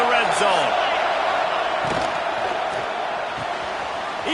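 A football stadium crowd roars steadily behind the defense during a red-zone stand in a Tigers versus NC State game, a dense, sustained wash of cheering with a few louder whoops and bangs near the start.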